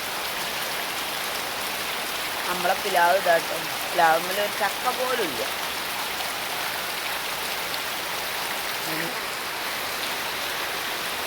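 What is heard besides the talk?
heavy rain falling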